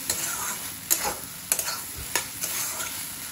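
Paneer is stirred and fried in spice masala, a soft continuous sizzle broken by sharp spatula taps and scrapes against the pan every half second or so, with no talking.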